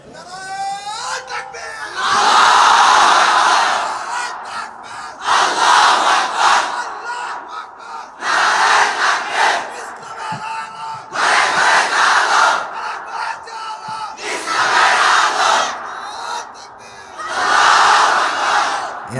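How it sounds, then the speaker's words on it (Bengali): A large crowd roars the takbir chant, Allahu Akbar, in about six loud, evenly spaced bursts, with a short lull between each shout. "তুমি আরেকবার তাকবীর দাও"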